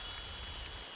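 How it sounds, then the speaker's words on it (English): The Rain of Purity rain spell in the video game Godus pours down as a steady, dense patter of falling rain, a brief and even wash of hiss lasting about a second. "Rain of Purity can extinguish fire."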